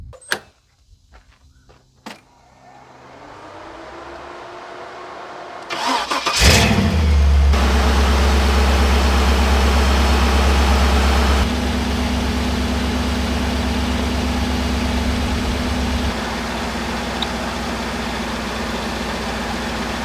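Car engine with a liquid head gasket sealant treatment, started up after a few quiet clicks and then left idling loud and steady to circulate coolant, its tone dropping slightly partway through.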